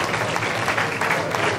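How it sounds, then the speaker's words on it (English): Audience applause at a university MOU signing with Nestle, a dense, even clapping from a crowd that stays loud and steady throughout with no voices on top. "Put your hands together for them."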